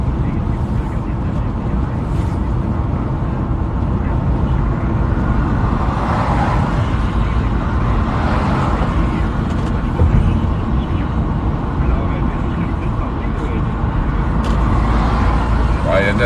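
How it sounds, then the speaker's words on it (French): Road traffic around a car driving in the evening near Quebec City, with a constant loud low rumble of engine and tire noise and occasional swells from passing vehicles. "Il y a de la circulation un petit peu plus ce soir que hier."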